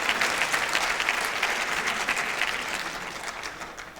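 A seated audience applauds continuously, dense clapping that stays loud and fairly even before easing slightly toward the end.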